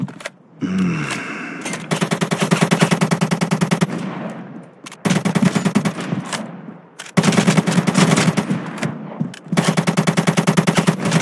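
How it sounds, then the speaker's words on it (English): Enemy gunfire in the mobile shooter ZOZ: Final Hour, heard as loud bursts of rapid automatic fire in several long stretches with short gaps between them, close and dominant with no talk. "An enemy player's firing on you."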